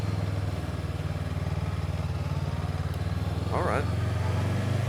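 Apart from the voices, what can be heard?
motorcycle riding through town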